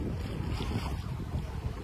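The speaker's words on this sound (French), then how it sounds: "y a quasiment toujours autant de vent que tout à l'heure, mais avec les vents arrière" Wind blowing while sailing a boat with a following wind, a steady close buffeting roar against the microphone with faint water wash underneath, brief and continuous, no talking.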